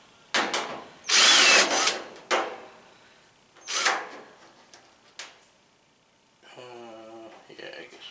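A power drill spins out quarter-inch self-tapping screws from a Whirlpool WED85HEF dryer panel, several loud close whirring bursts separated by pauses with clattering handling noise.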